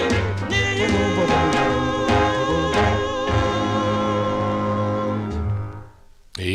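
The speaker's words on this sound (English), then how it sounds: "That's the sound of the Cardinals." A 1957 doo-wop record, "Near You" by Ernie Warren and the Cardinals on Atlantic, playing with vocal group harmonies over steady bass and rhythm, fading out near the end.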